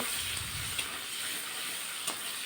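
Chopped onions frying in oil with Bengali five-spice tempering for a rohu fish curry, a steady soft sizzling hiss throughout with a couple of faint clicks.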